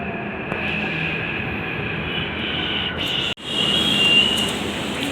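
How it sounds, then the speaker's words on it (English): Inside a moving metro train, a steady loud rumble of wheels and carriage runs throughout, broken near the middle by a sharp momentary dropout, then a brighter rushing roar with a faint high squeal as the ride continues. "Here's from my metro."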